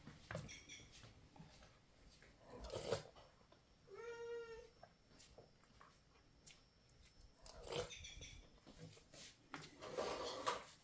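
A female cat meows several times in short, separated calls while food is set out for her, mixed with faint eating and dish sounds in a quiet home.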